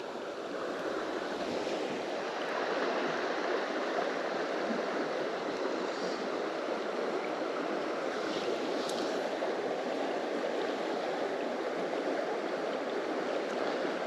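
Fast-flowing river water at a grayling fishing spot rushes in a steady, broad wash that holds constant throughout, close and fairly loud, with no talking.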